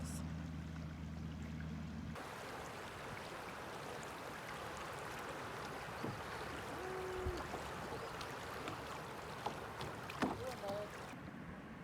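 Kayak paddles dip and splash softly against a steady backdrop of flowing river water on Powell River and light wind, with occasional faint knocks near the boat among rocks.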